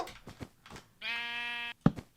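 A single Minecraft sheep bleats once, a steady harmonic bleat close by, framed by scattered soft game sounds before and after.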